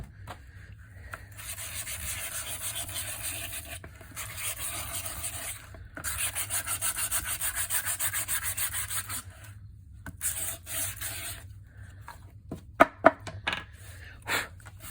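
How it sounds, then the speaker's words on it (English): A glossy 45 record album cover sanded by hand, heard as soft rasping strokes in bursts with short pauses, close and fairly quiet, followed by a few sharp taps near the end. "I'm also going to sand it, just so things glue to it a little better"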